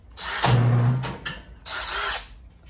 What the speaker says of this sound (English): I'm gonna go through with a wire brush and a drill